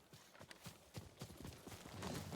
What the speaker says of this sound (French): Il est où mon cheval encore?